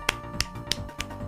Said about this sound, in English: I don't know why I clapped.